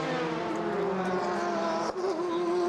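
The number 76 IMSA Matmut Porsche race car at the 2014 24 Hours of Le Mans pulls in with a steady, loud engine drone that holds an even pitch, with a brief dip and a slight tonal shift near the end.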